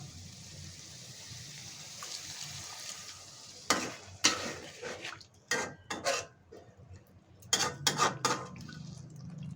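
A pointed gourd dish sizzles quietly in a pan, then a metal spoon clanks and scrapes in several bursts as water goes in and the mixture is stirred and bubbles.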